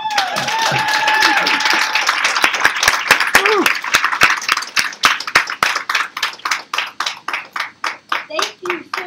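Cheering and applause fill a Miss Wheelchair California pageant hall, dense and loud at first with whoops and voices, then thinning into distinct rhythmic hand claps toward the end.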